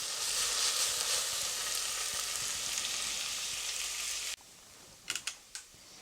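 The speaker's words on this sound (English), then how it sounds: "these onions are sweating down nicely then, just waiting to get a bit of colour on them" Onions frying in a pot for venison tikka masala, a loud dense crackling sizzle heard close up that stops suddenly partway through, followed by a few sharp clicks and taps.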